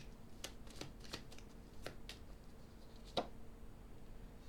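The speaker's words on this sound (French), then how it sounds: "On va poser une carte sur le message." Tarot cards being shuffled close by in a quiet room, soft papery riffles punctuated by a few crisp card snaps, with no talking.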